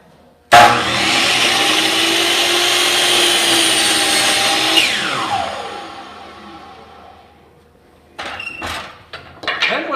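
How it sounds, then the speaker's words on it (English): Power saw set to 45 degrees cutting a miter in stock for a tile-top table, a loud sustained whine through the cut that winds down as the blade slows, then a few clatters. "So I'm going to turn the saw to 45, and then I want to just cut a miter on the end"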